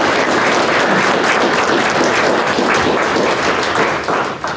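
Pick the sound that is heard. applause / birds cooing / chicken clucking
applause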